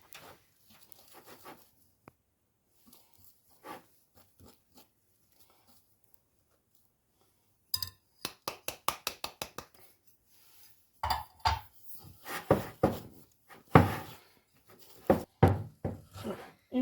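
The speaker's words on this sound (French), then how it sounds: "Mélangez bien." A utensil works unsweetened cocoa into chocolate batter in a bowl, starting with sparse light taps, then a rapid run of clicking strokes and heavier scraping and knocking against the bowl; no talking.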